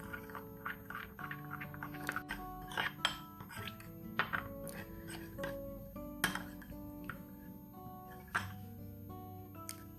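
Spoon stirring peanut satay dressing with sesame seeds in a bowl, giving repeated light clinks and scrapes in an uneven rhythm over steady kitchen background, close by with no talking.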